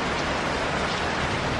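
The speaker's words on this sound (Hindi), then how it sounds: "बहुत ज़्यादा तेज़ बारिश है एंड हवा भी है" Heavy rain pours steadily at night during a thunderstorm, with wind adding to a dense, continuous wash of noise that stays loud and even throughout.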